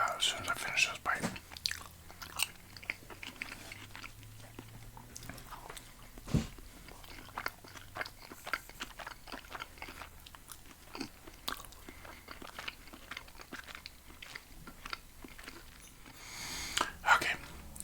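Someone chews a bite of taco right at the microphone in a whispered ASMR setting, steady soft crunching and moist mastication clicks repeating for many seconds, quiet and intimate with a few louder bites.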